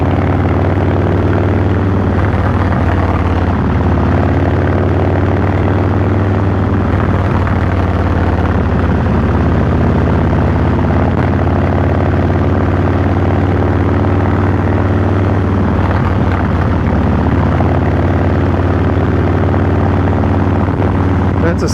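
Stage 1 tuned motorcycle engine on a night ride towards New Sudbury, a steady low droning hum running close and continuous throughout, with no clear rev changes.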